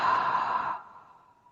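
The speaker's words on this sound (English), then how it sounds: "Slowly inhale and exhale out your mouth." A single slow breath exhaled through the mouth, close and soft, starting strong and fading into a quiet airy tail, with no one talking.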